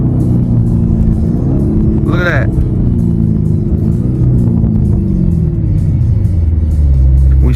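A Lamborghini Urus Performante, a roughly $400,000 SUV, drives with a deep steady engine rumble and road noise heard from inside the cabin, with one brief rising rev, while someone talks over it.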